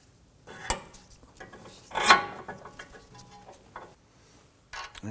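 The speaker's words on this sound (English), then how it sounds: "let's go ahead and get that nut started" Metal nut being threaded onto the tie rod of a Volvo XC90, with light clinking and scraping taps scattered across a few seconds, close up and fairly quiet.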